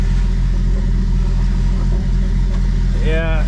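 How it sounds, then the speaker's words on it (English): Idling 1995 Jeep Wrangler with the 4.0 engine, a low close rumble with an irregular uneven pulse, joined near the end by a brief rising whine, while a person talks over it. "Yeah, I hear some popping and backfiring and whatnot."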